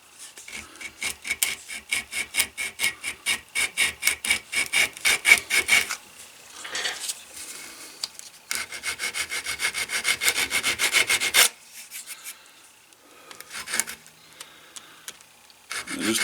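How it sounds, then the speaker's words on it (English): A leathercraft hammer is sanded by hand with 80-grit sandpaper, making close, rhythmic scratchy strokes in quick succession, then a denser continuous rubbing stretch followed by fainter, scattered scrapes. "so I'm using some 80 grit."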